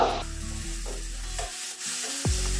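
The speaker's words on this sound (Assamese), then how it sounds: "যাতে মছলাখিনিৰ লগত ভালকৈ ভাজা হৈ যায় আলুখিনি।" Diced potatoes fry in a pan with tomato and spices such as coriander powder while a spoon stirs and scrapes them. The sizzle stays steady and close, broken by irregular stirring scrapes, with no voices.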